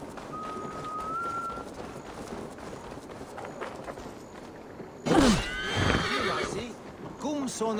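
Horse whinnying loudly in the video game Assassin's Creed Valhalla, a sharp neigh in the middle followed by hoofbeats, with game ambience and someone talking through the clip.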